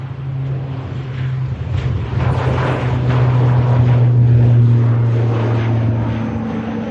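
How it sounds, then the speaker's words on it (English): A Logan Air ATR 72-600 turboprop rumbles at Manchester Airport, its loud propeller drone and engine hum swelling steadily and holding near, with no talk over it. "Proper aircraft lined up. It's going to the Isle of Man. This Logan Air ATR 72-600."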